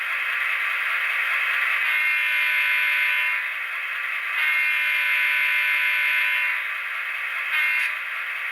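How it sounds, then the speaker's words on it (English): A Soundtraxx Tsunami sound decoder in a Proto 1000 GP15-1 model locomotive plays its diesel horn with added reverb, loud sustained blasts that briefly dip and resume, alone without talk. "I also added some reverb to the horn in the CVs, in Decoder Pro."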